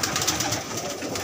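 Pigeons in a loft in Dhoolpur, mostly Allahabadi birds with a few Rajasthani and border breeds, give soft continuous calls and rustling against a steady room hum over a short stretch, with no talk.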